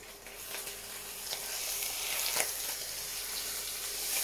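Steady close sizzling of a roasting pork rouelle frying in a pan, a continuous hiss with a few faint clinks, no talking over it.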